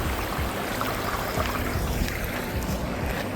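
A small creek and little waterfall run beside a wooded Pennsylvania trail along the Susquehanna, making a steady, full, close rushing and splashing that fills the whole moment with no voices.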